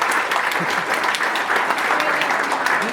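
Steady, dense applause fills a hockey club banquet hall, many hands clapping evenly from start to finish at close range with no gaps.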